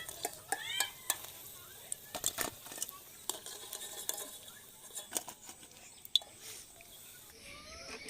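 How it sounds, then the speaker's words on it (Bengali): Large onion fritters (piyaji) deep-frying in oil, with a quiet, crackling sizzle, scattered taps and scrapes of a utensil, and faint speech in the background. "বন্ধুরা পেঁয়াজগুলো সব ভেজে নেবো"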